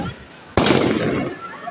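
Large firecrackers burst at an outdoor walima dinner, a sudden loud crack at about half a second followed by a sustained crackling roar, with voices of guests underneath.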